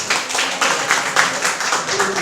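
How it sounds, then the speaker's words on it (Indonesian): Audience applause at a sales presentation: dense, steady broadband clapping from a room of people, sustained evenly for a couple of seconds at moderate loudness with no talk over it. "Berikan tepuk tangan."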